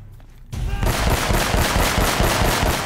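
Gunfire in Uncharted: Drake's Fortune Remastered, where a brief quiet opening gives way to loud, rapid automatic bursts that keep up a fast, even rhythm to the end.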